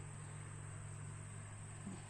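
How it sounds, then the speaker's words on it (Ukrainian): Mosquitoes buzzing in a vegetable garden among potted tomato plants, a faint steady high whine holding over a low hum for the whole moment, with no talking. "Ой, комари."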